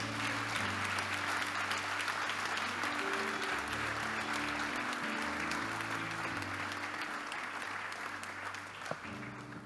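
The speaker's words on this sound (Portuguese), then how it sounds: "Aplaude a Jesus." A church congregation applauds at a pastors' council gathering, sustained dense clapping filling the room for several seconds alongside low sustained musical tones, with a faint voice underneath.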